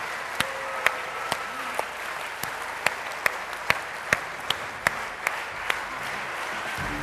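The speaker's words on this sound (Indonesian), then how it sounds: "Kita berikan tepuk tangan yang meriah" A crowd applauds at a campus event at UIN Syarif Hidayatullah Jakarta, with individual sharp claps popping out at irregular intervals over a soft, continuous background hiss.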